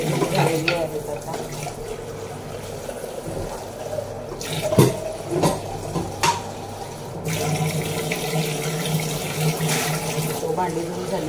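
Dishes being washed under a running kitchen tap, a steady wash of flowing water with occasional clinks and knocks of crockery, close by, with some faint talk in the background.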